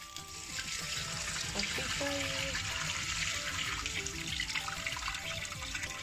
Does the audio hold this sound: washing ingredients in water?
yes